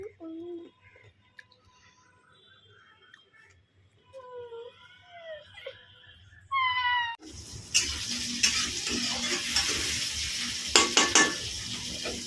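An egg frying in a pan on a gas stove in a home kitchen, a sizzling hiss that starts abruptly after a quiet stretch of voices and a child's chatter, then continues with light scraping and clatter.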